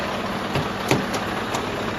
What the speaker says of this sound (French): je vais avancer tout doucement pour décrocher mon col de cygne